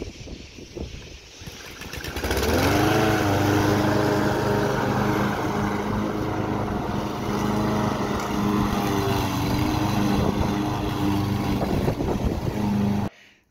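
Small wind generator spinning freely with no load, its motor-like whine rising quickly after about two seconds into a loud, steady drone with a layered harmonic hum that holds until it cuts off at the end.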